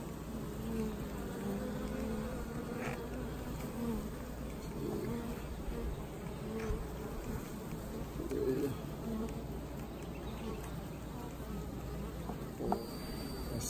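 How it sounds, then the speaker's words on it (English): Dense, steady buzzing of honey bees crowding around newly introduced mated queens in a hive, a continuous droning hum throughout with occasional faint bird coos in the background. "The bees are really tending to these new queens"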